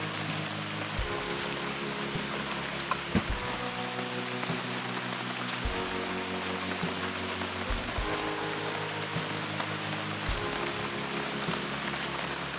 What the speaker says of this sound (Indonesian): Baru semalam hujan. Hujan renyai-renyai berterusan.